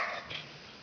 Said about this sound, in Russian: Давай, гавкай на него.